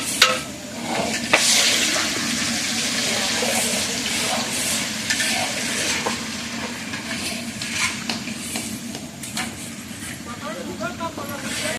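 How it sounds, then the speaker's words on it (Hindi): Hot oil frying and sizzling in a large pan over a big village wood-fired stove, prepared for biryani at a thirteenth-day funeral feast, with steady crackle and stirring scrapes throughout. "तेल को बहुत अच्छे से गर्म किया जा रहा है"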